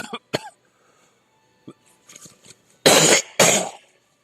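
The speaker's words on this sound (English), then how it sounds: "I just coughed up some stuff." A radio host coughs close to the microphone, with a few small throat sounds first and then two loud, harsh coughs in a row.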